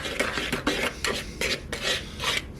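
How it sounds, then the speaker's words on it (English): A whisk or spoon rhythmically stirs dry pancake ingredients in a bowl, about eight quick scraping strokes, close and clear, with no talking. "Give a little mix."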